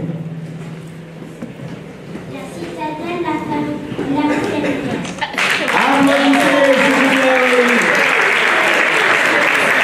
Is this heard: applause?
yes